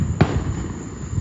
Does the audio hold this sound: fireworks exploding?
yes